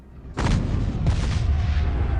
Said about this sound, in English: gunfire erupts outside the Martin home, and the family watches as a battle ensues just beyond their property